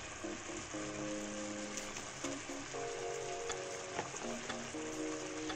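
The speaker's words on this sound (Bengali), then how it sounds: "এবার আমি আস্তে আস্তে ভাজা কপিগুলো দিয়ে দিচ্ছি" Fried cauliflower pieces slid into boiling Manchurian gravy for Indo-Chinese cauliflower Manchurian, giving a steady, close bubbling sizzle that runs without pause and with no talking.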